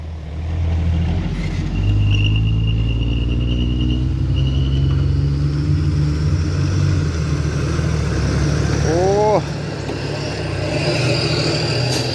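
A vehicle driving off-road in second gear over dusty ground, its engine a loud continuous rumbling drone held close throughout, with a brief higher-pitched whine rising near the end.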